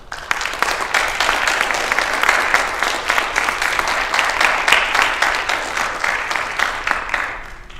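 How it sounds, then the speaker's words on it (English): Sustained applause from an audience at a cross country awards ceremony, dense steady clapping lasting several seconds, loud and close, with no talk over it. "So girls, give yourself a round of applause for being WPRL runner-ups."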